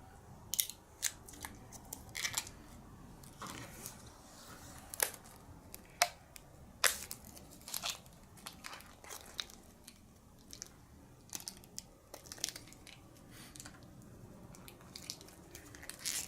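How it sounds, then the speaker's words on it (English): Protective plastic film being peeled off a pinball guard for a GhostBusters Premium machine, giving a string of sharp, crackly tearing snaps at close range over a quiet background, with no talking. "now I'm going to take this guard and again remove the protection plastic off of this"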